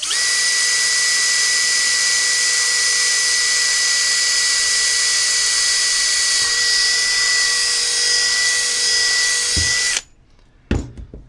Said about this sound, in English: We're going to drill a hole based off of the middle of this round cylinder of the gas tank